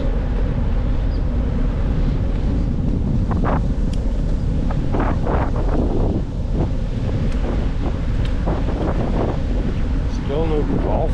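Strong wind buffets the microphone outdoors in autumn near an empty golf course, a loud continuous low roar filling the whole stretch, with a person's voice faintly breaking through now and then.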